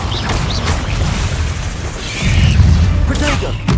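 An Incendio fire spell bursts in Hogwarts Legacy, a loud whooshing boom with crackling over dense game combat noise, swelling midway and staying strong.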